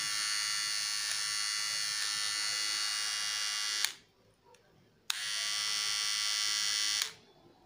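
A Philips BT3200 corded trimmer runs with a steady, close electric buzz for about four seconds, cuts out briefly, then starts up again for another two seconds before switching off.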